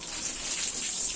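Water pours steadily over a child's head during a bath, a brief, continuous splashing gush heard up close.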